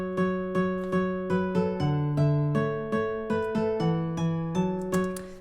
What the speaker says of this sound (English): It's a preset of a strummed acoustic guitar,